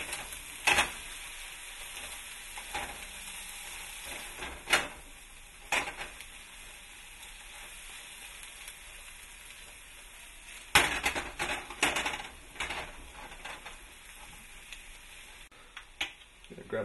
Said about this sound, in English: So we're going to toss our cheese in here. And scramble all that up.